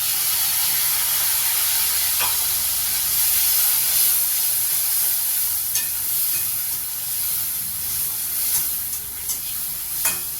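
Ground tomato hits a hot pan with a loud, steady sizzle and hiss, dotted with faint pops and stirring, continuous and close with no talking.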